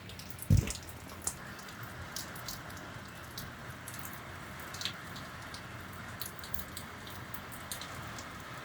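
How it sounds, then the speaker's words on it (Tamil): Heavy, continuous rain falling outside a forest stay, a soft, steady patter with scattered distinct drips, and one brief knock or thud near the start. "மழை விடாமல் பெஞ்சிட்ருக்குங்க, சரியான மழை."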